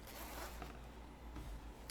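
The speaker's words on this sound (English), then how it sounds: "Nice zipper, really nice zipper." A zipper on a Rapha Imperial Works cycling jersey is pulled up in one quick, close rasping sweep, followed by a short second tug at the end.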